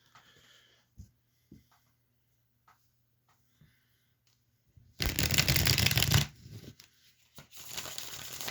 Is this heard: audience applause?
no